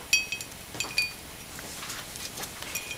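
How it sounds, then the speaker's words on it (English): Scraping a stencil off sandblasted etched glass gives a series of light, sharp scratchy clinks and scrapes in irregular bursts, close and fairly quiet, with no voices. "I just have to scrape off all the stencil"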